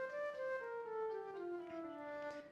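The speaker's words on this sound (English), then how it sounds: "This is a natural minor scale." Soft solo instrument plays a descending natural minor scale, notes gliding smoothly one after another at a moderate pace, quiet and close, with no talking.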